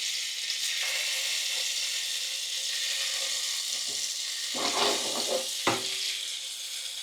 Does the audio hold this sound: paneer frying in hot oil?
yes